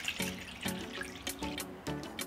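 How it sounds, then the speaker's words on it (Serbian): Water runs from a tap in splashing bursts over a lemon and an orange in a sink, close and moderately loud, with uneven gushes and drips. "Preliću ih sa vodom"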